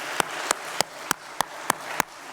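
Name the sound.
church congregation applauding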